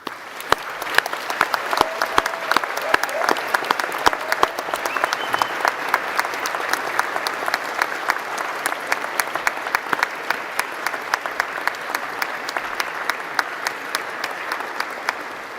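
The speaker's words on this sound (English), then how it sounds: "Let us give them the applause they so richly deserve." A large audience at a university graduation ceremony gives sustained, even applause for staff, a dense wash of clapping with a few sharper individual claps standing out near the front.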